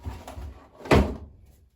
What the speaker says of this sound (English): And I'm going to close the soap box